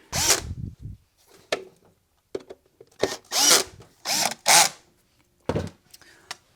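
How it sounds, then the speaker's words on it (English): A power drill drives bolts to fasten a fender delete onto a lowered Onewheel GT electric board, several loud short whirring bursts separated by pauses, close up with no talking. "And the last step is just to bolt that fender delete back on there."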